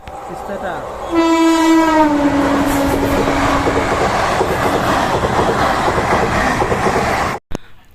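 A train horn blares for about a second, then a loud express train rushes past with continuous rumbling and rattling of wheels on track until an abrupt cut.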